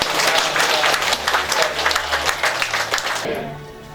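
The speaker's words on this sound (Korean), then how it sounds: "박수로 한번 축복합니다" Loud, sustained applause from a church congregation, a dense rush of many hands that fades out abruptly near the end, leaving a quieter room.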